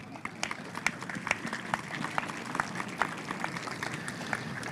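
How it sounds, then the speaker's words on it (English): Faint, scattered clapping from an audience at a Victorian Aboriginal remembrance service sounds distant and uneven, with individual claps popping out over a soft background. "I got an applause."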